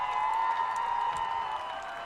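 A high school football crowd at Arcadia versus La Salle, on its feet at the end of the game with a dense, steady roar of cheering and applause that fills the whole moment at a distance.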